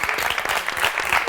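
A television show studio audience applauds with continuous, dense clapping at steady loudness throughout the brief moment.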